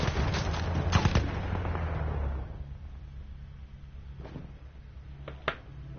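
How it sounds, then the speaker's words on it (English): Frag grenade blast in Battlefield 1, a loud close burst with a heavy low rumble that decays over about two seconds, followed by fainter scattered gunfire further off. "Frag grenade."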